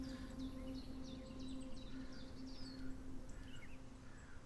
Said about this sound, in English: Extremely cool developers putting chiff-chaffs in their game.